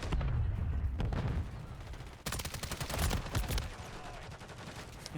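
Rapid bursts of gunfire from the video game Lethal Company, dense overlapping shots cracking in quick succession with a sharp volley near the middle and continued firing after it.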